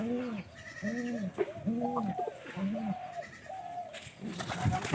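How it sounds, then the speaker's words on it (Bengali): A goat bleats four times in a steady rhythm, each call loud and close, followed by a burst of rustling near the end, with no talking. "ছাগল আটকা।"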